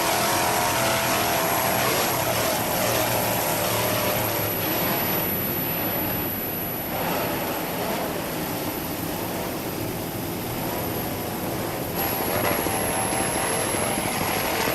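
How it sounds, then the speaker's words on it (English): A racing powerboat engine roars loud and steady without a break, heavy and close, with a constant high whine riding above the rumble. "This boat is moving quite nicely."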